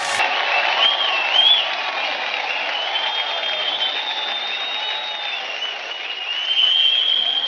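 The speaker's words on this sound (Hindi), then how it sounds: "ताली हो जाए।" Audience applause at a comedic awards show, a dense sustained clatter of clapping lasting several seconds, fairly loud and steady, with a tonal music-like line running underneath.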